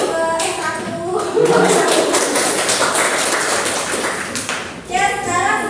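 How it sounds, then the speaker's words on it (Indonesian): Classroom applause for a student group after their presentation, a steady patter of many hands clapping throughout with a teacher's voice talking over it. "tepuk tangan dulu untuk kelompok"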